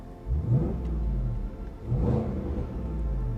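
A 2019 Jaguar F-PACE SVR supercharged SUV engine revs twice with a deep, rumbling exhaust burble, a low throaty growl swelling and settling, heard up close with no talking.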